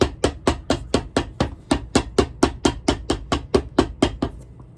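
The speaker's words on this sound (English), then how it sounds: "Now we'll come in and sand half of that off so there's not a hump on the bottom of your" Sanding cork filler on the bottom of a Ferragamo shoe during restoration, heard as about seventeen evenly spaced, close scraping strokes in a steady rhythm, with no talking.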